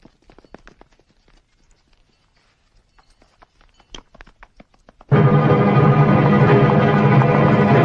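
Horses' hooves clip-clop in an old Uyghur feature film set on a desert caravan road to southern Xinjiang. Sparse, uneven hoof clops come first, then a loud, dense wall of sound takes over abruptly partway through.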